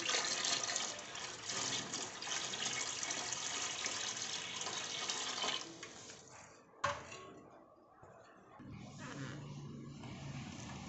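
Water pours steadily and loudly into a homemade glass aquarium, a dense splashing rush that continues for several seconds, then breaks off and resumes more softly, with no voices.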